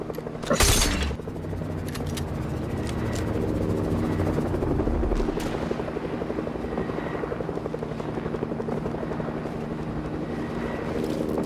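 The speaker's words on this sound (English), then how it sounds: "There's a chopper on me." A helicopter circles close overhead in a battle royale video game, its steady rotor drone running throughout with a sharp burst of explosion-like noise near the start.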